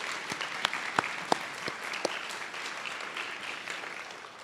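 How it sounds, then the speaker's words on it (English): Audience applause at a university graduation celebration for an anesthesiologist assistant cohort, a steady wash of clapping from a crowd with a few sharp nearby claps standing out early on, fairly loud and continuous throughout. "let's give a round of applause to Dr. Lombardi and his support of us."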